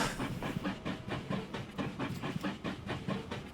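A train in the video game Transport Fever 2 rolls along with a steady clickety-clack rhythm of wheels over rail joints and a soft hiss underneath, heard alone at moderate volume.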